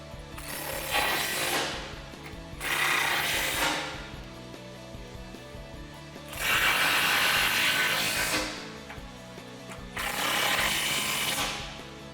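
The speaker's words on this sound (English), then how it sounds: "Grab your 13 socket and tighten down the two under each tow hook." A ratchet and socket tighten bolts under the tow hooks of a Ford Raptor in four separate bursts of fast clicking, close and clear, separated by short quieter gaps.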